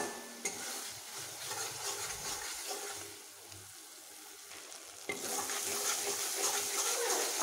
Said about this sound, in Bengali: সেই জন্য এর কাঁচা ভাবটা যাতে না থাকে ততক্ষণ পর্যন্ত আমি একটু কষিয়ে নেব।